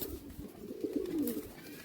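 Madrasi high-flying pigeons kept in a cage for sale coo softly and close by in a short, throaty burst, with no speech over them.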